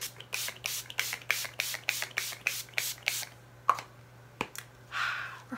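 Urban Decay All Nighter setting spray mists from its pump bottle in about ten quick, crisp hisses in a steady rhythm, close up, followed by a softer longer spritz, with a faint low hum underneath.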